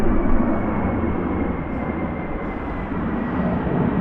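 Airliner landing in a strong storm crosswind on Schiphol runway 18R: a loud, steady roar of engines and wind that fills the whole stretch without a break.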